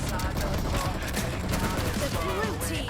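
Dense gunfire and chaotic shooting in the mobile battle-royale game PUBG Mobile form a loud, continuous crackle of overlapping shots and effects with little break.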